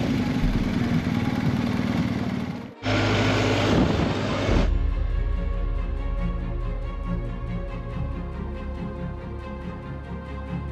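Adventure motorcycles ride along Federal Road 9 toward Pahang, with a loud, close engine roar and rushing wind that cuts out briefly, then gives way to a steadier, lower engine drone.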